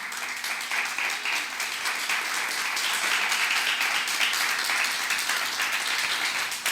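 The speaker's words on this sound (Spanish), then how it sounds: "Denle un fuerte aplauso al Rey de Reyes." A church congregation applauds during a worship service, many hands clapping in a sustained, even roar that holds steady for several seconds, fairly distant with a faint tonal hum beneath.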